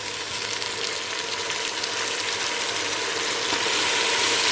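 Mint leaves fry in a pan for mutton biryani, giving a steady, close, continuous sizzle with a faint scrape of stirring and no talk over it.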